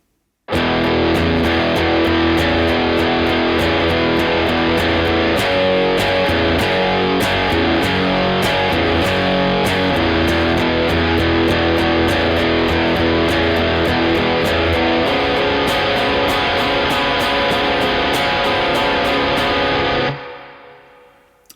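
Overdriven electric guitar runs through a song's pre-chorus, steady loud strumming of chord changes for about twenty seconds without any voice, ending with a ringing fade.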